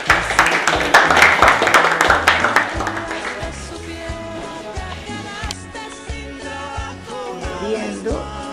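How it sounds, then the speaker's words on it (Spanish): Applause for the students at an Easter egg making class at the UTHGRA gastronomic union in Corrientes: a burst of dense clapping over the first few seconds that fades under loud background music. "Un aplauso para todos los alumnos entonces."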